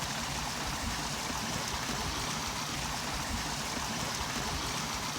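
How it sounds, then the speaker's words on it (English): Steady broadband rush of a flowing stream cutting a narrow channel through grassland, continuous and even in level throughout, with no voices or other sounds over the water. "I'm going to take a look down the stream here"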